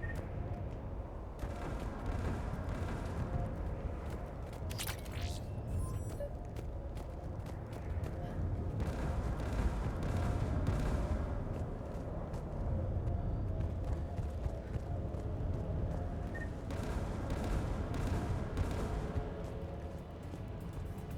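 In the video game Mass Effect, a mounted turret fires in a dense, continuous rumbling barrage of shots and explosions, loud and steady throughout, with the player's voice briefly heard over it.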